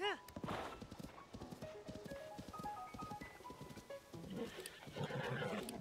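Horse from the video game Zelda: Tears of the Kingdom, with a whinny at the start followed by steady clip-clop hoofbeats, game music tones and a voice talking over it.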